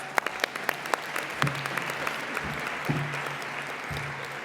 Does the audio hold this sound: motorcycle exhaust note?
no